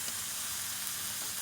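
Tomato and ginger fry in a pan, a steady bright sizzle with faint crackles that runs for a moment without speech.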